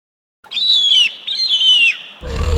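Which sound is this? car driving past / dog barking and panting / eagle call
eagle call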